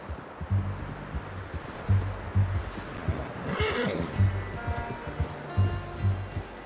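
A horse in Red Dead Redemption 2 whinnies and snorts in repeated bursts, with hooves clip-clopping at a steady walk close by, set against a low ambient rumble.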